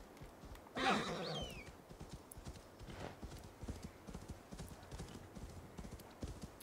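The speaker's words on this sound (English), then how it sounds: "There's my horse." Horse in a video game gives a brief loud neigh near the start, followed by soft, rhythmic clip-clopping hooves that continue faintly in the background.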